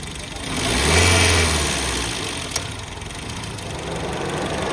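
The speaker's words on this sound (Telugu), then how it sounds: "వెహికల్ టూ థౌజండ్ ఆర్పిఎంకు రేస్ చేయండి" A 2011 Chevrolet Spark LT petrol/LPG car engine revs up to 2000 rpm and holds a steady higher hum, swelling early and then settling into a constant drone nearby.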